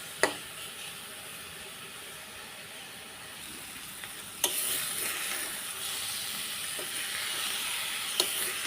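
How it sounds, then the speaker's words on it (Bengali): Ash gourd fries with mustard spice paste in a pan, a soft, steady sizzle with occasional sharp clinks of a utensil stirring against the pan. "মশলাটা ভাজা ভাজা হয়ে গেছে, চাল কুমড়োর সাথে লেগে গেছে"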